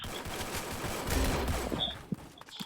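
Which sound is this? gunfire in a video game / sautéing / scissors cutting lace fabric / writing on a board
gunfire in a video game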